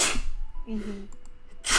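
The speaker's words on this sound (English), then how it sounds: "sorry, I sneezed" A single sharp sneeze bursts out near the start, followed by a brief vocal sound and a second loud burst at the end, close to the microphone during a casual podcast conversation.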